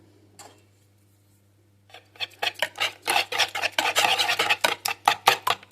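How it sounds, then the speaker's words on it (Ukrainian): Flour being whisked into a mixture for a poured cabbage pie, a rapid rhythmic run of close scraping strokes that starts after a near-quiet pause and grows loud and steady. "Я зараз отак з'єднаю це, вінчиком зіб'ємо."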